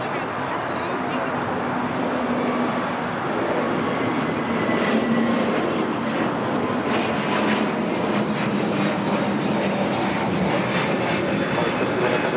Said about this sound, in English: Volaris, flight 1711, heading to Guadalajara in the A321neo